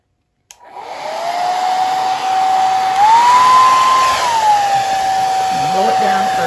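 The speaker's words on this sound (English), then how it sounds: "I'm going to use this hair dryer this time." A hair dryer switches on with a click and blows steadily over an acrylic paint pour, a close, loud whirring hum that shifts pitch briefly midway as the setting or angle changes.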